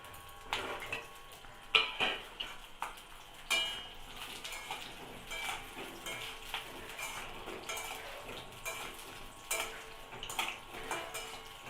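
Pointed gourd pieces drop into a hot pan and fry with a steady sizzle, punctuated by scattered clinks and scrapes of a utensil stirring against the pan, close and fairly quiet with no talk.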